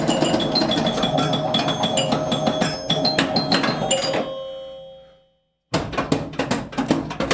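A Joker Poker pinball machine rings out a rapid run of bright, loud chimes, fades into a short silence, then starts ringing again.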